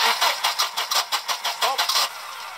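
Volvo 240 engine cranking without catching, a rapid rhythmic whirring of the starter in about a dozen even pulses for over two seconds, then fading to a hiss, fairly loud and near.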